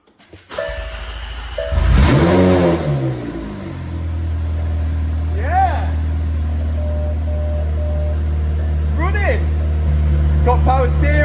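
A wrecked McLaren 720S under rebuild cranks and fires up on a single wire. The engine catches with a loud rev flare, then settles into a steady, deep idle with faint chirps over the drone.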